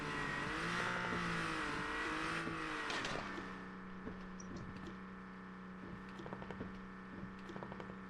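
In the survival game Garena Undawn, a vehicle engine drones steadily and shifts pitch as it approaches, loud at first and then easing to a lower hum, with scattered sharp clicks and knocks and no talk.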